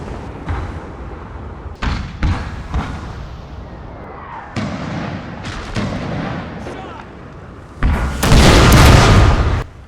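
Artillery bombardment in the Napoleon: Total War strategy game, a Civil War–style battle: repeated booming cannon shots at irregular intervals, loud and close, building to a heavy sustained barrage near the end.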